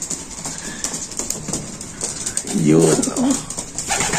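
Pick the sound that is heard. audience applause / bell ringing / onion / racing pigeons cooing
racing pigeons cooing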